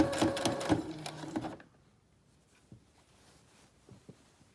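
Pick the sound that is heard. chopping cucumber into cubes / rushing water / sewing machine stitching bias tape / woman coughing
sewing machine stitching bias tape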